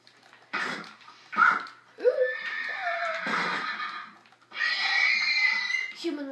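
A horse in a video game gives several loud whinnies and snorts, close and clear, with short pauses between the calls and no speech.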